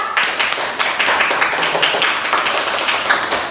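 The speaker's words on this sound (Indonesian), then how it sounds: "Kita beri tepuk tangan dulu untuk kelompok 3." Students in a classroom clap for a group, a dense, loud, even patter of many hands sustained across the moment with no talking over it.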